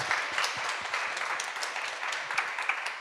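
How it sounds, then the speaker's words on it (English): An audience applauds panelists at the close of a talk on nature and health, steady clapping from a crowd at moderate volume for a few seconds. "Let's give our panelists one last round of applause."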